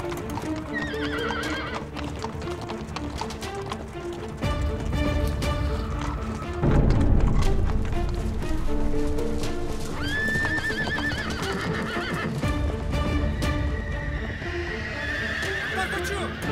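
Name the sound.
horses running away, galloping and neighing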